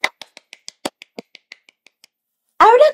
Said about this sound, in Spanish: Ahora tú, aplaude rápido.